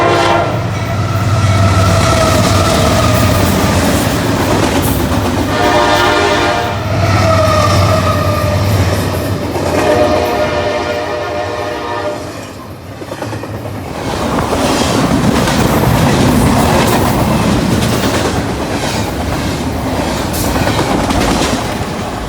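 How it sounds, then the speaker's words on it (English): A Norfolk Southern intermodal freight train led by an AC44 locomotive with a Dash-9 trailing rumbles past up close, loud and steady, with low engine drone, wheel and rail clatter and rolling noise that dips briefly near the middle before resuming. "the first train we caught was a Norfolk Southern intermodal with an AC 44 leading and a -9 trailing."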